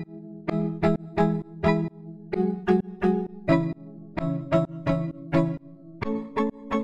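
Short, punchy synth chords from a dance-track drop, played an octave higher, hit in a bouncing rhythmic pattern of repeated stabs with brief gaps between them, loud and clear with no talking.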